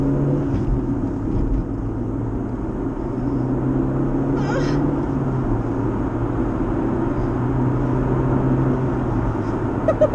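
Interior of a VW Golf GTI with a 1.8T turbo engine while driving, a steady low engine drone and road rumble that shifts pitch as the gears change, with a faint brief whoosh midway.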